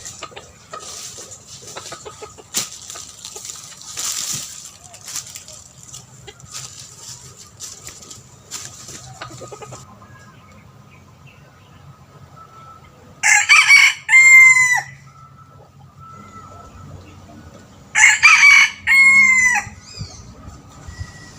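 A bantam rooster crows loudly and close by, two full crows a few seconds apart, with softer rustling and scattered fowl sounds before them.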